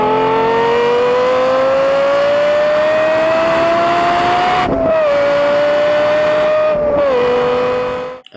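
A Lexus LFA engine revs in a long, rising high-pitched howl that climbs steadily, breaks off briefly with gear-change dips, then screams on near and loud before cutting off.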